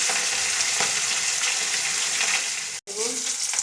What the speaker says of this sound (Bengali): তাই মাছটা ভেজে নিচ্ছি